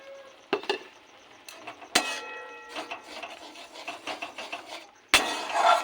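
Strawberry chutney is stirred in a pan, producing close, irregular scraping and rubbing strokes with a few sharper knocks of the spoon against the pan.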